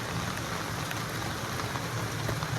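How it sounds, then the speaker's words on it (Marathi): Heavy rain pours steadily in Thane, a dense, even patter of drops on surfaces with no voices. "तुम्ही बघू शकता खूप पाऊस आहे यार"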